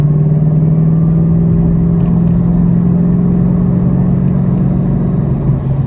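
A Ford Mustang with a Coyote engine accelerating through the gears around 3,000 RPM, a steady loud engine drone heard from inside the car, with no talk over it.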